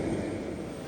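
An airplane at an airport makes a steady, low, broad engine roar that stays even and moderately distant throughout, with no speech.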